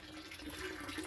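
Spring water trickles steadily out of a collection pipe at a microhydro spring development, a soft continuous splashing flow heard close up with no talk.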